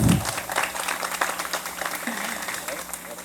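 Wedding guests give the couple a short burst of applause during the ceremony, steady clapping that fades slightly over a few seconds with faint murmuring beneath.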